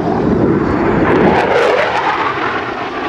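F/A-18 Hornet jet passing over at a Navy legacy flight airshow on final approach with flaps down, a loud continuous roar that swells and slowly recedes.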